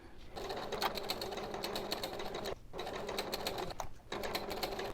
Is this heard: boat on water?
no